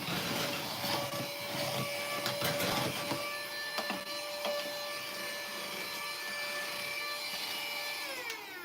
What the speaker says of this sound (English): I saw a dust bunny, so I had to go grab my, this here is my little vacuum.